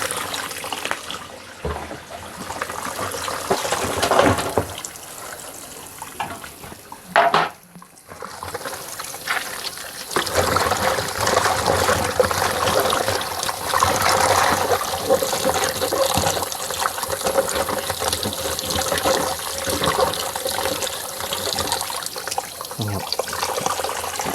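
Vegetables for Thai pickled greens are rinsed under steady running water, a loud continuous gush and splash that breaks briefly in the middle before resuming at full flow.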